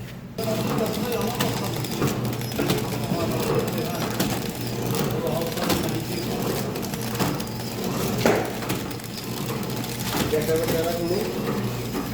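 A brownie cake production machine runs and cuts with a steady mechanical clatter of rapid ticks and whirring, nearby and fairly loud, while a voice speaks over it.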